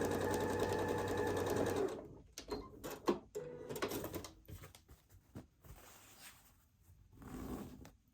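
A sewing machine runs a short, fast burst stitching a quarter-inch quilt seam on a 2 3/4 by 5 inch fabric rectangle, followed by quiet fabric handling and clicks.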